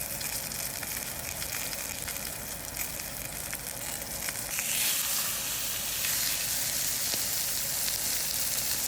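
A pork sirloin roast sizzles loudly and steadily in a pan close by, and the frying hiss grows brighter about halfway through. No voices are heard.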